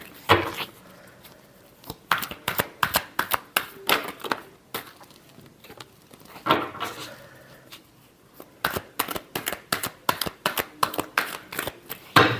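A deck of tarot cards being shuffled by hand in repeated quick riffling bursts with short pauses between them, close and crisp, no talking.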